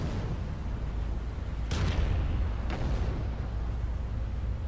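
Battleship guns fire in a naval combat video game, with two sharp booming shots about a second apart over a constant rumbling background.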